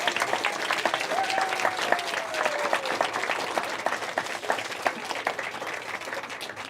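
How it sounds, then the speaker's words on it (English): An audience gives a sustained round of applause at a scout group's event, dense clapping from many hands that stays fairly even throughout, with a faint voice briefly audible beneath. "So I think a big round of applause to them as well"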